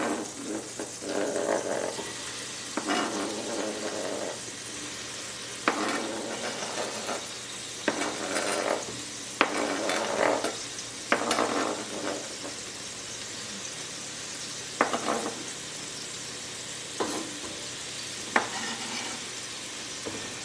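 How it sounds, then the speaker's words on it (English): Leeks sizzling in melted butter over medium heat for potato and leek soup, a continuous close crackle broken by repeated scraping stirs through the pan. "Now I'm going to add my leeks to my butter."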